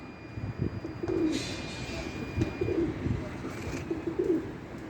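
Pigeons coo softly in a loft, several low throaty calls repeating amid faint background rustle and distant noise.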